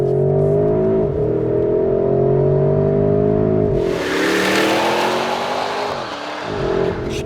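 A 471kW car engine revving hard on snow, loud and close, with rising and falling harmonic sweeps through repeated throttle blips and a rush of wider noise in the second half.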